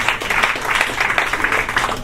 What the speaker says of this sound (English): Let's give her a nice round of applause, please.